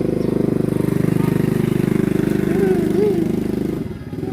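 Motorbike engine idling and puttering steadily up close in a Lao village in the morning, a low droning rumble that holds for several seconds before dropping off near the end, with voices talking over it.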